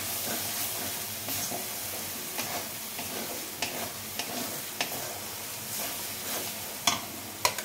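Spice masala being stirred and fried with a little water in a pan for a Bengali matar ghugni breakfast, with a steady low sizzle and recurring soft scrapes and taps of the spoon against the pan.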